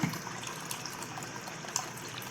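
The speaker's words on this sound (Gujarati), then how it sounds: "હવે આપણે એમાં પાણી એડ કરી દેવાનું" Steady water pours into a container of washed chana and moong dal in a continuous, moderately quiet stream, with a brief splash at the start and no voices.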